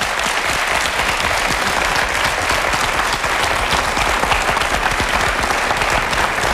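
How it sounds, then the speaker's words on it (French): Steady, dense applause from a French reality-show audience during the Koh-Lanta Nicoya finale, a continuous wash of many hands clapping at even loudness for several seconds, with no talk over it. "Je vous propose de l'applaudir."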